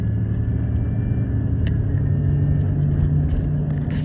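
A worn front wheel bearing hub on an older Rust Belt project car, bought at a Copart auction, gives a loud, steady low growl and rumble while the car is driven.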